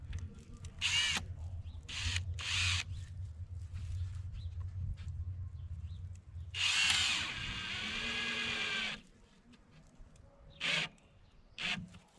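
A power drill drives screws into a cedar board for a raised garden bed, with several short whirring bursts, one longer drive that bogs down as the screw seats, and quiet handling noises between, close up with no speech.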